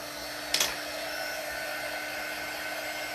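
Handheld heat or hair dryer blowing steadily on a painted mason jar, a continuous close whooshing hum with a brief click or bump near the start.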